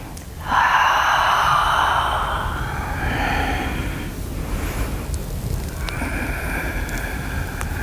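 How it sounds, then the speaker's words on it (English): Audible breathing during a morning shoulder exercise class: a strong, breathy inhale swells near the start, then eases into longer, softer exhales over steady low background noise. "So we're going to breathe in and exhale, reach."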